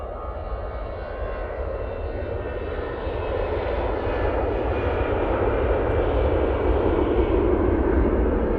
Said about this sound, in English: E-Jet, now on the roll. Using an A320 CEO.